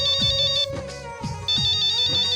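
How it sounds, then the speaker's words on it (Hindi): A phone's electronic ringtone plays loudly in repeating melodic bursts with brief gaps, clear and close with no talking over it. "सनी ताई का फोन आ रहा है"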